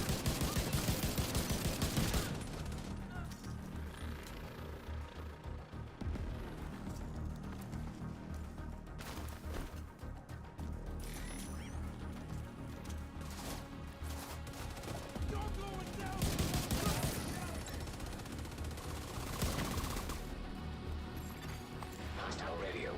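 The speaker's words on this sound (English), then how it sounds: "I hear gunfire." Bursts of rapid gunfire crackle repeatedly, with loud volleys at the start and again later, mixed with game sound effects and occasional voices.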